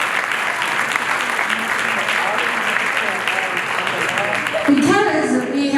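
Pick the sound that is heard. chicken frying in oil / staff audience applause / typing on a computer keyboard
staff audience applause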